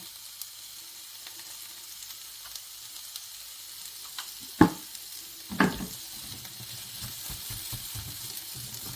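Food for salmon rolls stir-fries softly in a pan under a steady hiss, with a couple of sharp scraping clanks from stirring partway through.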